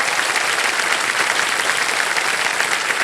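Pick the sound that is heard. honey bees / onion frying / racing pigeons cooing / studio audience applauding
studio audience applauding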